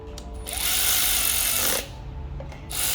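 A power tool on a Toyota Tundra engine, whirring in two loud bursts of roughly a second each with a short lull between, close to the microphone and without speech.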